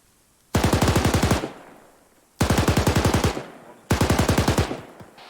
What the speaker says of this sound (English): I'm still hearing more gunshots out.